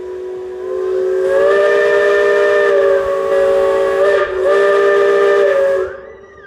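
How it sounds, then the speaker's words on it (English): A loud, sustained steam locomotive whistle with several harmonic tones blows for about five seconds in mountainous Colorado, briefly dipping midway, then fades with a faint echo. "I've been listening to those steam whistles for years and years"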